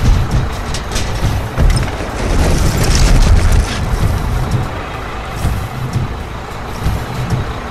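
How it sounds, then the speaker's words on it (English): Loud, continuous rumble of a construction haul truck engine close by, with a broad droning roar that swells and eases slightly throughout. "This is a haul truck."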